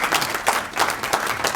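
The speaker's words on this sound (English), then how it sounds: "I think you can give us a round of applause." Audience applauding at a corporate stakeholder presentation, a short burst of dense clapping at steady level without voices.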